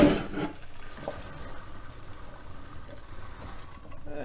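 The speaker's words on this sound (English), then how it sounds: "I'm going to go ahead and drain the beans" Cooked white beans being drained in a kitchen sink, water pouring and splashing steadily into the basin, close and continuous without any speech.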